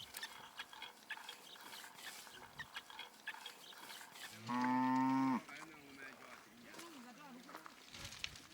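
Himba cattle in Kaokoland: a single loud, sustained moo lasting about a second rises midway over a faint, scratchy outdoor background.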